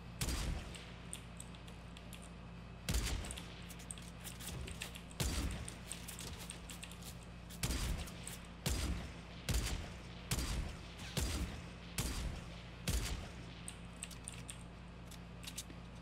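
Automatic sniper rifle shots in Fortnite Battle Royale, about a dozen sharp, loud cracks fired in an uneven rhythm over a steady low background hum, with no talking.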